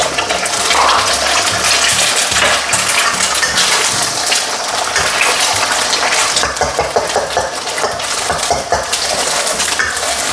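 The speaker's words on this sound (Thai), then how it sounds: "ผมก็จะเริ่มจากการใส่ไข่ลงไปก่อนเลยนะครับ" Loud, continuous sizzling and crackling as eggs hit a very hot pan for stir-fried eggs with Thai fermented pork, a dense frying hiss with spattering pops throughout.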